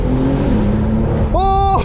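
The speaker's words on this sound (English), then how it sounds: "The crazy thing is when driving this turbo right now is that you don't have any lag switching between the gears." Brabus-tuned Porsche 911 Turbo S engine droning steadily from inside the cabin, then rising in pitch through a quick gear change near the end, loud and continuous.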